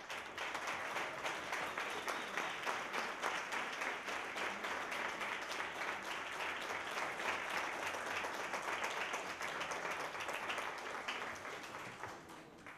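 Sustained audience applause fills a roundtable discussion hall on changing the narrative for Greece, a steady dense wash of many hands clapping at even loudness that tapers slightly at the very end.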